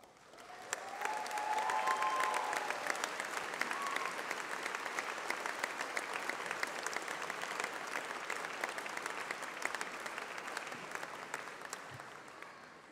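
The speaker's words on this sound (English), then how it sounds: "we give you a round of applause" Sustained audience applause at a UCLan university graduation ceremony, a broad, even roar of many hands that rises quickly and carries on steadily for the full stretch in a large hall.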